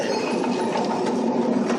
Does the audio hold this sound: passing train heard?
yes